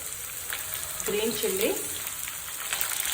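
Tindora (ivy gourd) frying in a pan: a steady crackling sizzle runs throughout, close and even, while a voice briefly murmurs in the middle.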